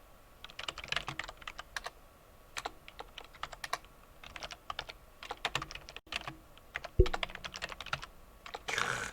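Rapid clatter of keys on a computer keyboard, irregular bursts of close, crisp clicks with short pauses between, no voices.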